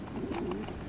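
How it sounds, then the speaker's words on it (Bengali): A long-distance racing pigeon gives a soft, low, close-up cooing call lasting about a second. "লং ডিস্টেন্স লং এর কবুতর এটা।"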